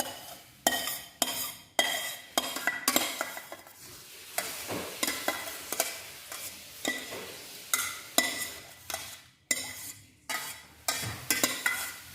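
Spaghetti in white sauce is stirred in a pan with a utensil, giving repeated wet, squelching scrapes and light clinks in bursts, with faint sizzling between strokes.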